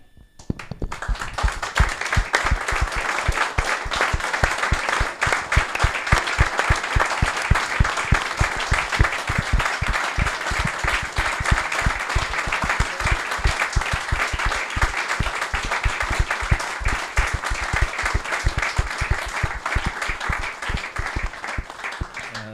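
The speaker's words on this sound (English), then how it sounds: "If you want to clap, as I say, I'm easy, but let's recognise the legend, Mark Lazarus." Sustained applause fills a hall at a Queens Park Rangers fans' forum in tribute to a late club legend: dense, steady clapping from a large audience, loud and continuous throughout, with no talking over it.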